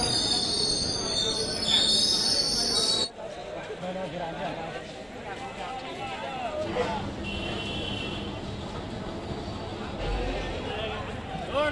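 The 22453 Rajrani Express runs on rails near Shahjahanpur on its Lucknow to Bareilly run. A loud, high wheel squeal in the first seconds gives way to a steady rumble and clatter of the moving train.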